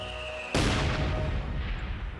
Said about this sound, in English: And my mortar's doing damage.